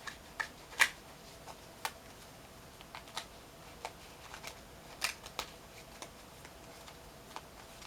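Tarot cards being shuffled quietly at close range: soft, scattered papery clicks and taps with irregular gaps and no voices.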